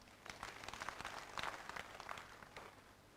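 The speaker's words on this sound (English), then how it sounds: "Let us clap for them." Audience applause at an annual general meeting of a pension fund, a steady patter of many hands clapping for a few seconds at moderate distance, with no talk over it.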